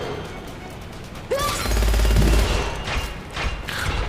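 Loud combat from the shooter game Gunfire Reborn, with a burst of heavy gunfire and a booming impact rising out of a dense, noisy battle, followed by continued rumbling action.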